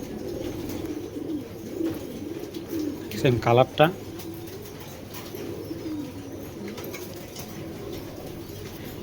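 A pair of black checker racing pigeons coo in a brief throaty burst mid-clip, close by, while a person talks quietly throughout.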